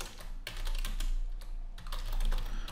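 Typing on a computer keyboard, close crisp key clicks in quick uneven bursts with a brief pause in the middle, over a low steady hum.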